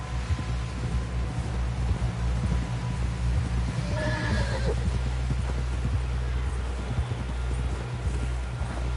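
A horse whinnies partway through in a video game, over a steady bed of galloping hooves and low rumbling ambience, loud and continuous throughout.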